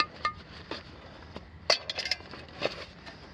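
Metal canteen with a lid being handled during a bag dump after a hike, giving a few scattered light clinks and taps, faint and close, with no talking.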